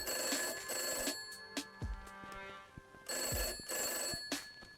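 An old-style telephone in a video game rings in two bursts of shrill bell trills, separated by a pause, with a few soft clicks and thuds in between.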